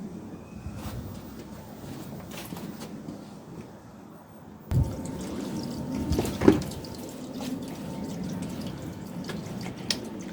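Freshly harvested carrots are rinsed under water, starting with faint trickling and dripping, then louder splashing and running water nearby, with occasional handling knocks.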